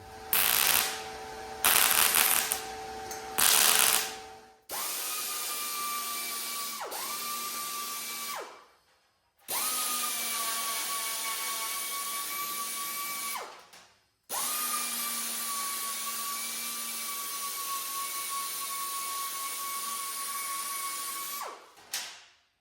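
Power tool grinding down a weld on custom car interior trim, a high steady whine in several long sustained passes with brief spin-down gaps, loud and close, after a few short clattery bursts at the start.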